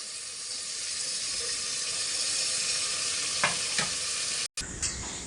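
Green chillies sauté in a pan with a loud, steady hissing sizzle throughout, broken by a few sharp stirring scrapes near the end.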